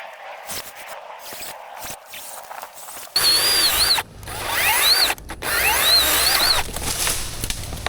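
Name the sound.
cordless chainsaw cutting a tree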